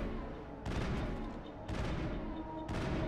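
Bursts of gunfire from the sci-fi shooter Mass Effect arrive in three dense volleys, each a rapid clatter of shots separated by brief lulls, sitting low in level under the game's ambience.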